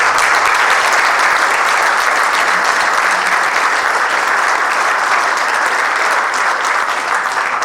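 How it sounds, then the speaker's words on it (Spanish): A crowd claps loudly and steadily for several seconds, a dense, even roar of applause with no pauses. "Igualmente, un aplauso para el maestro."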